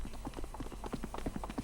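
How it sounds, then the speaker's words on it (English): Rapid running footsteps in a video game that sound like clattering horse hooves, a quick uneven patter of soft thuds repeating steadily and close for under two seconds. "It sounds like horses though."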